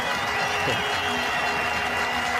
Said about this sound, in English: there's huge applause around the ground as well from all the Pakistan supporters here